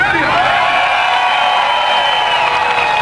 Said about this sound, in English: A cheer for Cerulean!